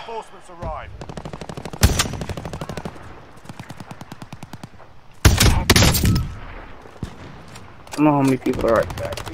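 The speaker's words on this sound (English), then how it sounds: "Yeah, I shot the guy." Gunfire in an online team shooter game, rapid automatic bursts and single shots in loud rattling clusters, with players talking over the shooting.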